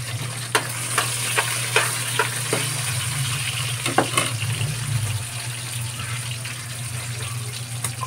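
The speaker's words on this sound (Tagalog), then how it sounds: "mainit na mantika Lagay ko na yung bawang, sibuyas, yung puno ng leeks at saka celery" Garlic, onion, leeks and celery sizzle in hot oil, a steady close frying crackle with occasional sharp pops and stirring scrapes, under a low continuous background hum.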